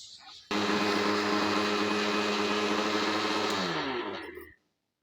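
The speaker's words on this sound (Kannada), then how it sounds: "ಮುಚ್ಚಳ ಮುಚ್ಚಿ ಮಿಕ್ಸಿ ಮಾಡೋಣ." A kitchen mixer grinder with its lid on whirs loudly while grinding roasted spice ingredients for vangibath, starting abruptly, running for about four seconds and winding down to silence.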